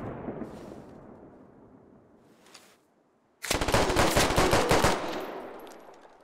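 A loud, dense burst of automatic gunfire in the military shooter game Squad erupts suddenly after a low rumbling stretch and near-silence, then trails off into echo.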